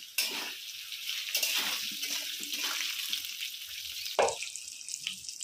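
Loud crackling sizzle of potatoes frying in oil with salt and turmeric, with occasional metal scrapes of a spoon against the pan.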